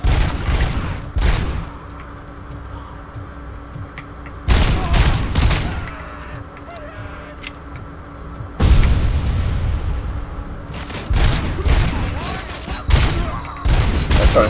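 Sustained bursts of gunfire in RoboCop: Rogue City, a near, loud fusillade in three heavy volleys separated by quieter stretches of game ambience.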